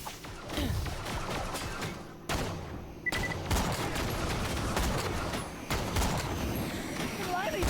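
SMG fire in the video game Borderlands The Pre-Sequel, with dense rapid bursts and sustained volleys of shots over continuous game noise, heard alongside someone talking.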